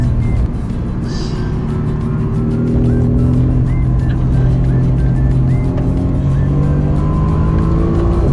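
A car driven fast on a track, its engine loud and close with rising and falling revs as it accelerates and shifts through a section, heard alone without talk.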